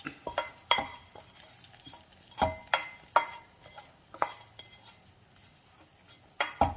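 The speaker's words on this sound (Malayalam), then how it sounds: "കടുക് വറുത്തത് ഈ കറിയിലേക്ക് ചേർക്കാം." Fried mustard tempering is stirred into a tamarind curry in a pan: a spoon scrapes and clinks against the metal in irregular bursts over a faint sizzle, close up with no talking.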